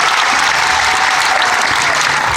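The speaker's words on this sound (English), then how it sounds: "let's have one more round of applause" A crowd applauds during a talk on SeaWorld and Busch Gardens, loud, dense and sustained clapping from many hands throughout, with no voices over it.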